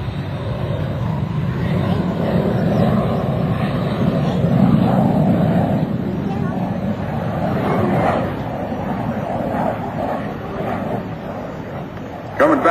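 Dan McCue's aerobatic airplane at the 2006 Westfield International Airshow dives toward show center, its broad engine roar rising and falling at a distance beneath an announcer's commentary.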